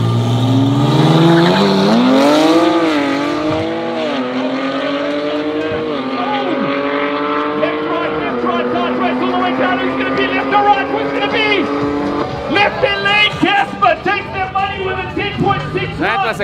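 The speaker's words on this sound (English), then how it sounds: "That's a great drag race" Drag race cars at a South African cash days event roar off the line, engine notes climbing steeply then holding a high, loud pitch as they accelerate, with talk and crowd noise underneath.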